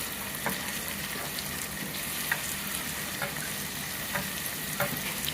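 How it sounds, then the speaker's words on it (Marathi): Tomatoes frying in ginger garlic paste for mutton biryani, a steady loud sizzle with occasional faint stirring clicks throughout. "आणि आता याच्यामध्ये 2-3 जे मीडियम साईजचे टोमॅटो होते ते घालूया"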